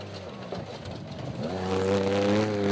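A Jimco desert race car at the Finke Desert Race runs strong, its engine note rising from a rough mid-range rumble into a climbing, steady rev as it passes close by.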